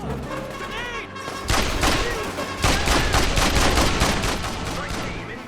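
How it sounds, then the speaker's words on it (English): A grenade blast and rapid gunfire in Mercenaries 2 on PS3: a heavy thump followed by dense bursts of automatic shots and booms, loud and close, continuing through the clip with shouted voices. "Fire in the hole! Grenade!"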